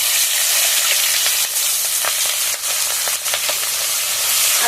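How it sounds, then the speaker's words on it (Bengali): Chopped onion and green chili frying in oil, a steady loud sizzle with occasional stirring scrapes and pops throughout. "তেলের মধ্যে দিয়ে দেবো কুচিয়ে রাখা পেঁয়াজ আর কাঁচা লঙ্কা"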